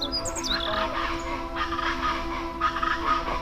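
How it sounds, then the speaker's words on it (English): A forest bird in El Ávila National Park above Caracas gives a chicken-like, gobbling call from somewhere overhead, sounding moderately distant in repeated bursts over a steady background hum. "it's like some sort of chicken."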